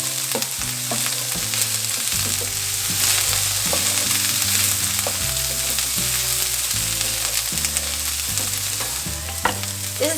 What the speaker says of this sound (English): We're gonna roast our corn for about 8 minutes, stirring every few minutes, just to make sure that all of our sides get nice and roasted.